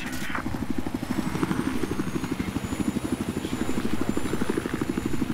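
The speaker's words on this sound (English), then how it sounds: "I don't know what I have on this chopper" A helicopter flies in the video game Battlefield 4, its rotor chopping in a fast, even low thump that continues loud and close, with a faint high whine above and no voices.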